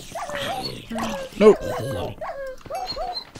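A dog whimpers and yips in the Minecraft video game, a string of short rising whines repeated across the moment while people talk excitedly over it.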